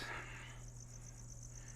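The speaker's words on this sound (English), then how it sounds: "This is where we keep crickets." Four-week-old crickets are kept on vermiculite in an enclosure inside a gecko reptile room. Faint, steady high chirping sits over a low electrical hum, quiet and continuous, with no voices.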